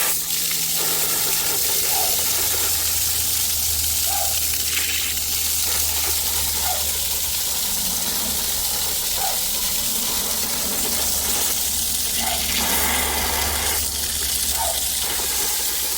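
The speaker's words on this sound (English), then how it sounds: "Okay, so water's back on." Steady water running from a tap after a leaking SharkBite plumbing fitting was repaired, a continuous broadband rush with no talk.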